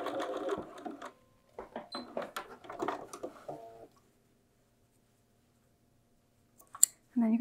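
A sewing machine runs rapid stitching bursts while sewing a back tack on bag handles with bias binding, then pauses before one short final run; a voice speaks between the bursts.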